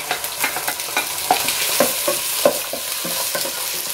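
Spice paste for Manado spicy basil chicken frying in hot coconut oil, a loud close sizzle with rhythmic scraping and stirring strokes throughout, with no talking.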